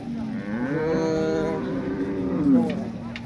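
A young heifer at a cattle market lets out a long, drawn-out moo close by, followed by a second shorter low call.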